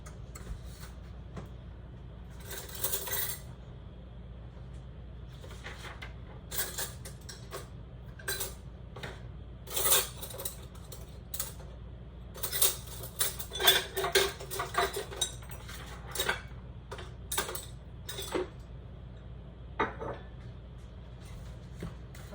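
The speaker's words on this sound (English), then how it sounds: "All right, so I need to get my measuring spoon." Metal measuring spoons, a tablespoon and teaspoon, clink and rattle in a kitchen during butternut squash prep, with scattered bursts of jangling metal over about twenty seconds, fairly close and moderately loud with quiet gaps between.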